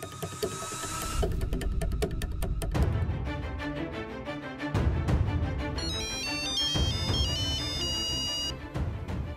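An electronic phone ringtone plays a bright, repeating melody, loud and close, with no voices.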